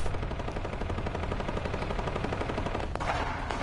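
Rapid machine gun fire from a PS4 video game rattles on continuously and loudly for the whole stretch, dense bursts with no pauses.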